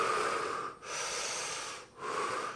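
Rhythmic Wim Hof style breathing through the mouth, a breathy rushing airflow that runs continuously, broken by two brief pauses, close and fairly quiet with no talking.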